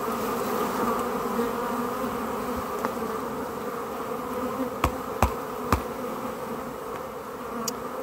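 Bees buzz in a steady, dense hum as a hive frame is shaken during a beekeeping inspection, with a few sharp knocks partway through.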